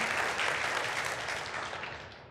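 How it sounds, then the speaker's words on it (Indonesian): A church congregation claps in praise during a worship service, a dense, even roar of applause that gradually fades toward the end. "Beri tepuk tangan yang meriah bagi Tuhan kita."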